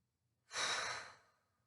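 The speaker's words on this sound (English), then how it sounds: "I want everybody to take a breath right now with me" A single deep breath, drawn in and let out close to the microphone. It is quiet and lasts about a second in otherwise near silence.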